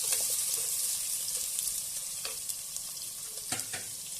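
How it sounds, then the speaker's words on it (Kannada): Onions frying in hot oil with a pinch of salt, a steady hiss of sizzling close by, with occasional scrapes and taps of a spoon as they are stirred. "ಈರುಳ್ಳಿ ಸೇರಿಸ್ಕೊಂಡು ಅದನ್ನು ಕೂಡ ಇವಾಗ ಕೈಯಾಡ್ಸೋಣ ನೀಟಾಗಿ"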